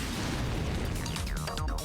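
A loud, continuous fiery blast effect from the Mega Flame attack in the Digimon Story video game roars as a dense, sustained burst of noise with crackling sweeps, with no talking over it.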